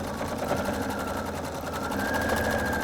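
Sewing machine stitching the seams of a quilted fan-shaped bag, a steady close whirring drone with a fast mechanical needle pulse running throughout without pause.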